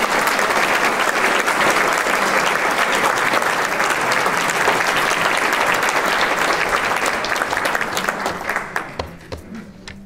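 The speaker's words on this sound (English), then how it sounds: "Now you can clap." A crowd claps loudly and continuously at a talk about the Carr family and Carr's Pool, the applause holding steady before thinning to a few scattered claps and fading near the end.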